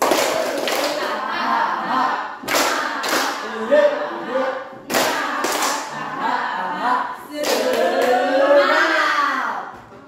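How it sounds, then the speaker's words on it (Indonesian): A class in an Indonesian informatics micro-teaching session does a rhythmic spirit clap during stretching, with short clusters of sharp claps in repeated bursts and a voice talking and counting between them. "Stretchingnya tepuk semangat. 1, 2, 3."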